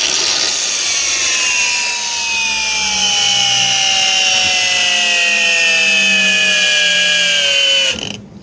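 A SHIDOKU cordless angle grinder runs at its second speed, a steady high whine with a slowly falling pitch, loud and close, holding for about eight seconds before cutting off abruptly.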